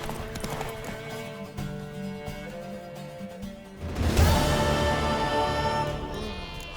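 Horse hooves clip-clop in a quick rhythm in a horse race in The Witcher 3 as a music swell rises partway through, with no one speaking.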